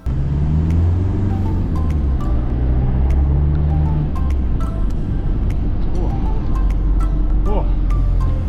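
A car labours through soft sand on Fraser Island, its engine giving a steady loud drone with shifting pitch and low rumbling throughout, heard close up with no voices.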